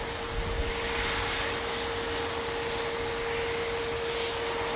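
Airbus A350 jet engines roaring at Manchester Airport, a steady, broad, loud rushing drone with a constant hum beneath it, heard from outside amid strong winds.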